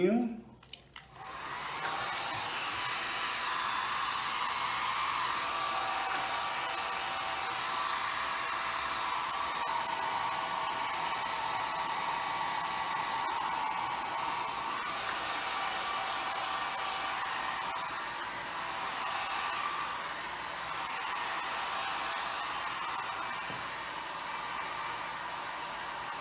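A hair dryer blows steadily on fresh paint for nearly half a minute, a loud, even whooshing drone that starts abruptly and holds without pause, with no talking over it.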